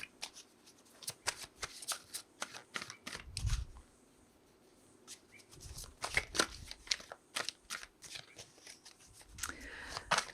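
A deck of fairy oracle cards is shuffled in quick, crisp riffles and flicks, close and fairly quiet, with short pauses and a few soft handling taps between bursts.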